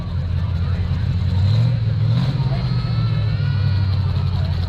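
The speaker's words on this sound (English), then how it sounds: "that car sounds pretty good" A V8 race car engine rumbles in a feature race at a county fair, a steady deep drone with a slight rise in pitch midway, heard at moderate distance under a commentator's voice.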